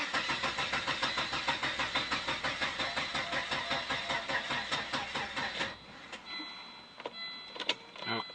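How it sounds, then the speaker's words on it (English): Volvo 850-era engine cranked on the starter, a rapid rhythmic chugging whir repeating for nearly six seconds without catching, then stopping into quiet clicks and rattles. "So first, we're going to go ahead and crank it."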